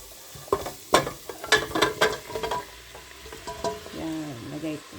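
Pork bones sauté in a hot pan for a pork bone sopas, with crackling sizzle and scraping stirs in bursts, then a softer steady fry, and a voice briefly underneath.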